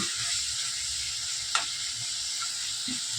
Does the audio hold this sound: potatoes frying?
yes